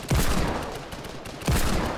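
Two loud gunshot blasts from a Wii ninja shooting video game, each with a sharp attack followed by a long, echoing decay, spaced about 1.4 seconds apart, with no one speaking.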